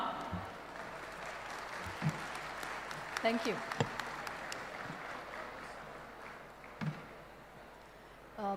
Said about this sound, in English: may we have a round of applause for ma'am?